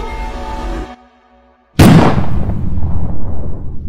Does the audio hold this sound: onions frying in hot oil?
no